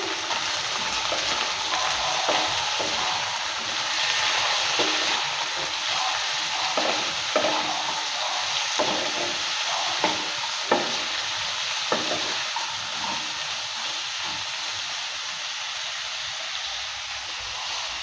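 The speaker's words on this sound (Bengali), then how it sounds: "করলা আলুটা দেওয়ার পর নেড়ে চেড়ে নিচ্ছি।" Bitter gourd and potato pieces stirred in a frying pan, a steady loud sizzle with soft scraping strokes of the spatula running throughout, no voices.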